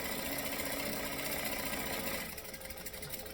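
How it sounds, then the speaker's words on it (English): A sewing machine stitches a long seam line with a fast, steady mechanical whir, close and continuous, then eases toward a slower, lighter rattle near the end. "So I'm just going to stitch this long line and then pivot at 180, jump across to the other long line and do that one too."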